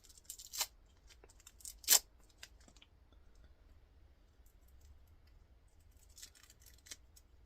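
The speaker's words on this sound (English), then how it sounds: "But we'll also take off the tape." Tape peeled from the copper wire reel of a Vortex Genie 2 sample mixer being scrapped: two short, sharp ripping bursts near the start, then faint scattered crinkles and clicks in a quiet room.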